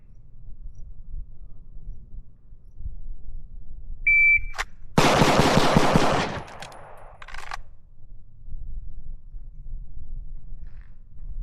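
Rapid string of pistol shots fired in a Bill Drill, a dense burst of about six closely spaced loud cracks lasting roughly a second and a half, preceded by a short electronic start beep over outdoor range background.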